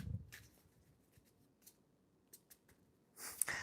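Tarot cards shuffled in brief papery riffles and scattered soft card taps, quiet and close, ending in a louder burst of crisp card noise.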